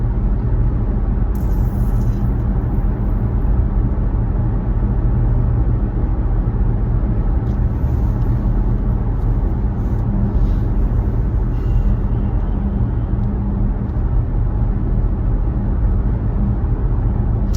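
A car drives along a road, heard from inside the cabin as a steady, loud low rumble of engine and tyre noise that continues without break and with no one talking.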